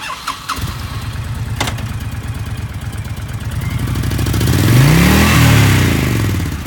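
A 2004 Honda VTX1300S V-twin heavyweight cruiser motorcycle engine starts with a quick crank, settles into a deep loping idle, then revs up in a loud swell and falls back, heard up close with no talking.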